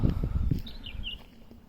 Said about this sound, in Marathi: तर तुम्ही ऐकाल तर इथे झाडींमधनं खूप पक्ष्यांचे आवाज येत आहेत